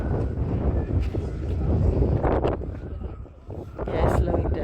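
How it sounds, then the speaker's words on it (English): Wind hisses and buffets steadily on a ferry ride, with loud broadband gusts rising and falling over a low rumble, while people talk nearby. "sharp sounds, these sharp hissing sounds, is the wind"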